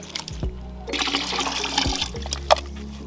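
Herrings being washed in water at a Ghana market, with sloshing and splashing liquid running steadily through the clip and a few brief louder splashes near and close by.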